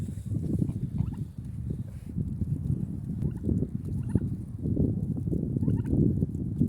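A flock of turkeys gobbling almost nonstop amid geese, ducks and chickens clucking and squawking, a dense, close barnyard chorus with no pauses.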